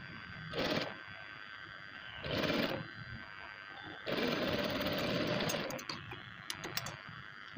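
Sewing machine stitching fabric for a girl's frock neckline, running in close, loud bursts: two short runs, then a longer steady stretch, with brief pauses and light clicks between.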